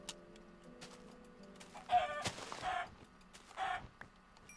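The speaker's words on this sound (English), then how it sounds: "now we have a chicken over here that needs to die" A chicken in Minecraft clucks in short bursts among scattered clicks and game sounds, with a couple of louder squawks standing out.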